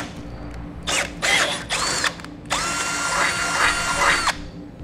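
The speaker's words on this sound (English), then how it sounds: "we can grab our drill bit, and we're going to drill directly into the frame." A power drill whirs in several short bursts, then runs in one long steady whine drilling into a 2009 Honda Fit's metal frame, loud and close, before cutting off.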